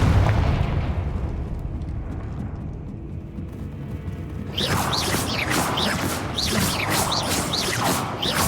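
A Confringo blasting spell going off in the video game Hogwarts Legacy: a deep rumbling boom fades, then a sudden burst brings dense crackling blasts and rapid sharp bursts repeating over a loud, continuous roar.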